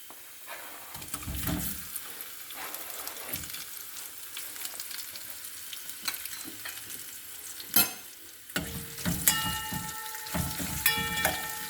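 Boiled potatoes tossed into a pan of sabudana khichdi with turmeric: soft sizzling under scattered spoon scrapes and stirring clatter, with a louder burst of activity toward the end and no voices.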